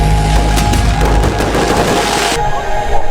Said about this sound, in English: The fireworks were real?